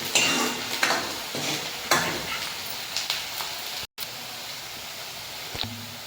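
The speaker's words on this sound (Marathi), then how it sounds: "हलका ब्राऊन कलर येईपर्यंत कांदा परतून घेऊ।" Onion and tomato paste sizzles in a pan for Khandeshi shev bhaji, a soft continuous fry with a few scraping stirs and a brief cut partway through.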